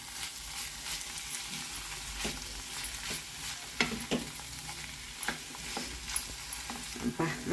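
Green chili and garlic paste stirred in a hot pan, a steady close sizzle with repeated scraping strokes of a spoon against the pan, no voices.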